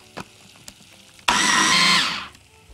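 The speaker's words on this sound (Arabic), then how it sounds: "افرم البصل ناعم خالص" A food processor mincing onion very finely, starting abruptly after a few faint clicks and running in a loud, steady whirr for under a second before winding down.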